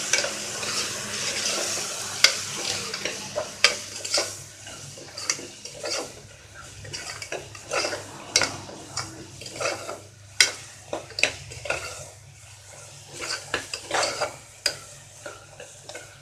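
Ground cinnamon, clove and cardamom masala is stirred as it fries in a pan for chicken gravy, a continuous sizzle with frequent sharp spoon scrapes and knocks against the metal, close by.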